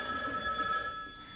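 A telephone bell rings steadily and fairly faintly in a comedy sketch, a short continuous electronic trill with no talk over it.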